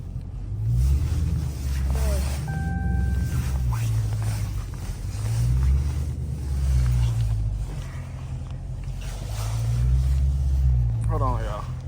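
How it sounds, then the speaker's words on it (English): A Scat Pack car stuck in a heavy snowstorm spins its rear tire, the engine surging in repeated low, droning swells while people talk over it. "Your back tire just spinning."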